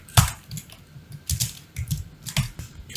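Computer keyboard typing while writing a trading journal, a quick uneven run of sharp key clicks close to the mic, alone without voices.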